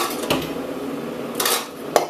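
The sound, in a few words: grabbing a cooking pan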